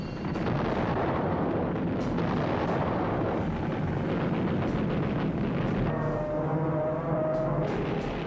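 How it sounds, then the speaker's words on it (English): A bomb bursts aboard the aircraft carrier Yorktown: a dense, roaring rumble of explosion and fire fills the whole stretch, loud and sustained with sharp cracks breaking through. "she took a bomb which penetrated 4 decks before exploding"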